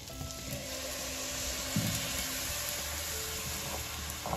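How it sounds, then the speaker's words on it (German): Maultaschen sizzling and frying in a pan with mustard and curry just before cream is added, a steady close crackle with faint stirring clinks and no talk. "während das jetzt so schön anbrutzelt, das darf es einfach noch eine halbe Minute circa anbraten"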